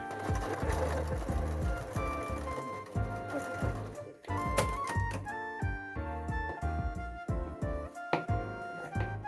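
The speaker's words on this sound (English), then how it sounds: "Stitch and leave a little opening to turn it around the inside out." A sewing machine stitches hoodie fabric scraps into a lined sweatshirt panel, a steady mechanical whirring mixed with tonal, music-like sound throughout, briefly dropping out around the midpoint before resuming.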